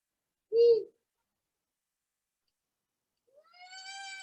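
Female long-eared owl calling at dusk: a short, loud nasal note near the start, then after a pause a drawn-out, rising, cat-like wail that swells and holds to the end, with silence between.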